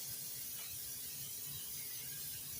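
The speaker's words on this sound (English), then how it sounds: "I'm going to go ahead and spray my pan and the rack." Cooking spray hisses from a can onto a roaster pan and rack, a faint steady spray held for a couple of seconds.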